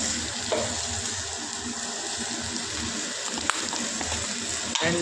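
Tomatoes frying in a pan with salt and turmeric make a steady, busy sizzle and crackle throughout, with a couple of brief metallic clinks from stirring.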